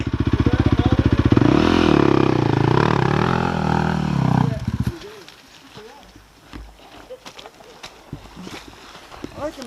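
A dirt motorcycle revs hard and loud up a creek crossing for several seconds, engine pitch rising and falling, then cuts off abruptly, leaving scattered clatter, footsteps and voices talking nearby.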